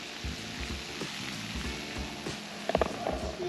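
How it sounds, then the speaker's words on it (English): Fish frying in hot oil, a broadband crackling sizzle with scattered sharper pops, steady and fairly close, with a few louder spits near the end. "Listen to that sizzle"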